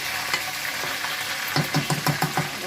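Oil sizzles in a frying pan while tandoori chicken cooks, a steady hiss under a quick run of rhythmic scraping or stirring strokes toward the end.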